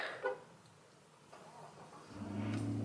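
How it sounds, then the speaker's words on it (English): A pickup truck engine cranks and catches, then settles into a low steady idle rumble that grows fuller over the last second, heard from nearby outdoors with no talking. "Just going to start my truck"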